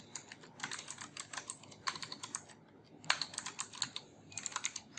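Fast typing on a computer keyboard while writing code: bursts of close, crisp key clicks with short pauses between them, heard without any talk.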